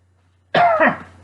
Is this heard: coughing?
yes